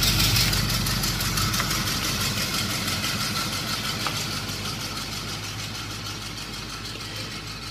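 A car engine idles nearby, a steady moderate rumble with a faint knocking texture that stays even and gradually eases slightly in level throughout, with no talking.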